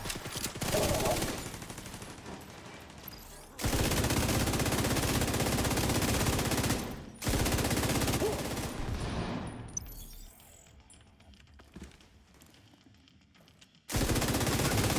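An MP7 submachine gun fires in a video game in loud, sustained bursts, separated by short breaks and a quieter stretch near the end before another burst.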